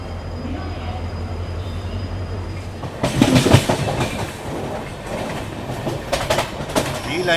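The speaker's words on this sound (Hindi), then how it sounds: "सुबह के 6 बजे ट्रेन जयपुर से निकलने को बिल्कुल तैयार है।" A Jaipur–Delhi double-decker express train pulls out of Jaipur at dawn, with a steady low rumble that swells into loud, rhythmic clattering of wheels and cars, close and continuous.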